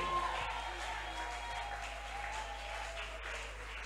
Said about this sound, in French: Est-ce que quelqu'un est prêt à acclamer pour le Seigneur?